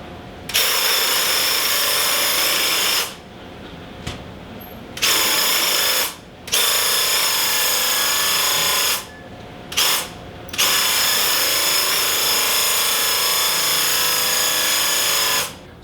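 A Graco Ultra handheld paint sprayer coats a door, giving a loud, steady hissing whir in long bursts separated by several brief stops, with no talking.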